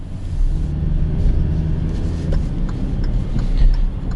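Steady low engine rumble from a 2018 Kia Rio EX with a 1.6 liter direct injected engine as it accelerates on the road, with faint ticking of injector noise over the drone, continuous and fairly loud from inside the car.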